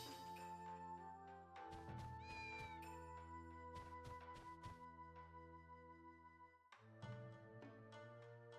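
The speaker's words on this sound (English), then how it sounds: "It's a cat, but we cannot interact with the cat." A cat meows several times in Onimusha 2, drawn-out calls standing out over a sustained tonal game backdrop, with no speech.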